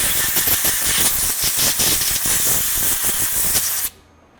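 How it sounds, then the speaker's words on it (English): Compressed air blows out coilover shims in a loud, steady hissing blast with slight fluttering pulses for about four seconds, then cuts off abruptly into quiet. "blow it out with air once again"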